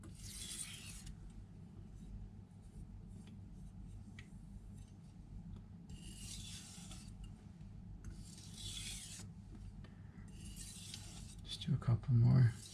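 A knife is sharpened on a Naniwa Superstone whetstone with edge-trailing and edge-leading strokes, producing quiet, rhythmic gritty scrapes in repeated bursts, followed by a few louder knocks at the end.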